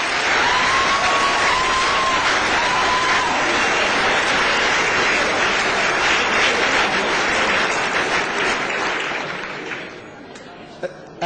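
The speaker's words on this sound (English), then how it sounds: "that's worth a round of applause" An indoor crowd at a cricket world cup event bursts into sustained applause for a young England player, dense clapping that runs strongly for most of the stretch before fading out near the end.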